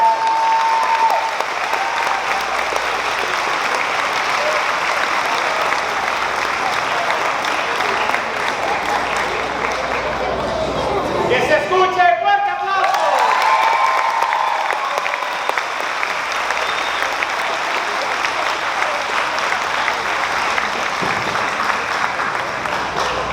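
A graduation ceremony crowd applauds a teacher's retirement, a dense, steady roar of clapping that runs throughout, with a short lull and a brief voice near the middle before the applause swells again.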